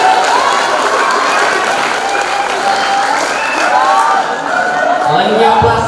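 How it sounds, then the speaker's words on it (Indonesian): Loud applause and cheering from a school audience at a ludruk theatre performance by a class of students, with dense clapping mixed with whoops, shouts and some children's voices throughout. "Sekali lagi beri tepuk tangan yang meriah"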